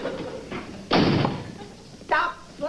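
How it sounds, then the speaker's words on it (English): A door slams twice in a sitcom scene, each a sharp loud thud with a short gap between them, set among bits of chatter and room noise. "Stop slamming the door"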